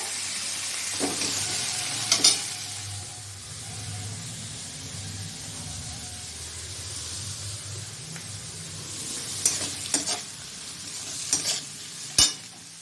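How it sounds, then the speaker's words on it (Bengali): Chopped tomatoes stir-fried with browned onions in a pan, with a steady sizzle and a few sharp scrapes of the spatula standing out. No one speaks. "এরপর আমি এর মধ্যে দিয়ে দেবো টমেটো কুচি। তারপর আর একটু নাড়াবো।"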